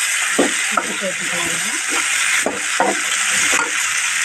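Tomatoes sizzling and frying in a hot pan for peanut chutney, a steady hiss with periodic stirring scrapes, close and clear, while a voice talks in Tamil.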